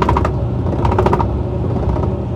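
A Union Lava-Matic washing machine with a newly replaced gear case spins its pulsator in reverse, giving a fairly even mechanical whir broken by a few quick bursts of clicking and light creaking.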